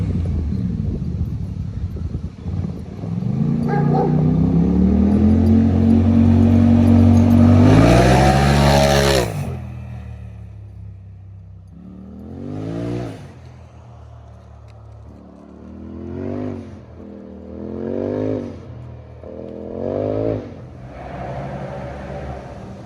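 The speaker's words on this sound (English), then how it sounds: "We wanted to get a flyby with the exhaust on this side." A Polaris RZR fitted with a cheap DIY exhaust approaches, engine note rising loudly and roaring close past. Then it shifts through a series of quieter revving bursts further off.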